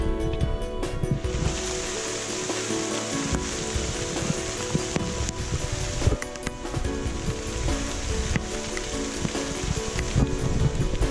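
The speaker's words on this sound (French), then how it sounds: "Jupe de pluie, on se prend la rincée." Heavy rain pours steadily and close on a hiking route through the Pyrenees mountains, a dense continuous hiss with scattered drips and patters throughout, no voices heard.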